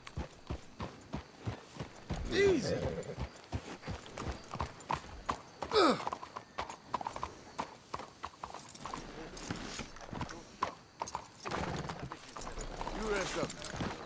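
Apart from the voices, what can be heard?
horses walking in the video game Red Dead Redemption 2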